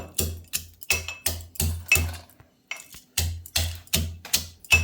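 Crabs are pounded in a stone mortar and pestle (khalbatta) in a home kitchen, giving about a dozen sharp, evenly spaced thuds with crunchy cracking, close and loud with a brief pause midway.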